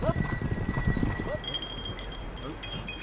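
Hooves of horses clip-clopping in an irregular patter as a Magyar rider stands across five horses at once on the Hortobágy puszta, with speech over the first part and a faint whinny-like tone.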